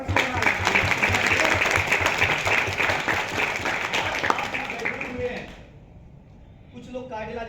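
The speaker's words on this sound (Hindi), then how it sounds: "आज आपने प्रमोद सिंह के लिए तालियां बजाई, विजय कुमार हरमत के लिए तालियां बजाई, मेरे लिए तालियां बजाई" Audience clapping at a talk, a loud, dense burst of many hands with crowd noise mixed in, holding for about five seconds before fading away, after which a voice starts speaking.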